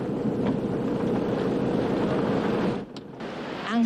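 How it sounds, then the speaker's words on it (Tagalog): Strong typhoon wind from Typhoon Ruby roars as a steady, loud broadband rush that drops away briefly near the end and then surges back. "Ang hangin, mistulang ipo-ipo, galing na sa iba't ibang direksyon."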